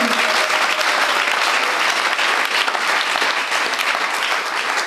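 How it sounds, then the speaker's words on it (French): A congregation applauds steadily at a church engagement celebration, a dense, loud wash of many hands clapping that holds without a break from start to finish. "On acclame pour le Seigneur."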